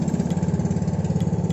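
Fishing boat engine warming up before night long-line fishing, idling with a steady, rapid knocking pulse, loud and close, no voices over it.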